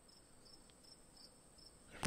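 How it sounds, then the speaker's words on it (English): Afternoon crickets chirping faintly and steadily in a quiet outdoor ambience, a soft continuous insect trill with regular pulses, ending in a brief louder burst of noise. "Afternoon crickets."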